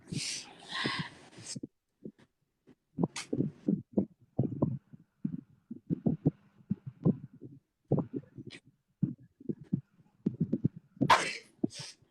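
Several loud human sneezes burst out at the start and again near the end of a Bugis comedy scene, with a stretch of low, thumping noises and scattered knocks in between.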